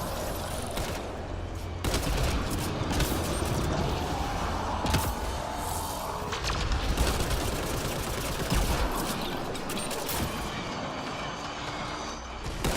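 Dense, sustained gunfire and mechanical clatter fill a Mass Effect Andromeda multiplayer battle, loud and continuous, with occasional bursts and creaking, and no talking.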